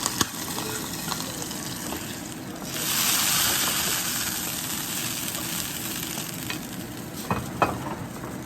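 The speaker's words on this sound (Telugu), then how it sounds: "దాన్ని ఇప్పుడు ఈ పోపునంతా దీంట్లో టమాటో రసంలో వేస్తాను." Hot tempering sizzles and crackles steadily as it is poured into tomato rasam, a loud frying hiss that swells briefly then settles.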